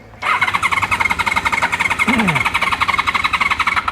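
Honda VFR750 motorcycle engine starts and runs steadily, a loud, close, rapid buzzing idle that continues without pause, with no voices.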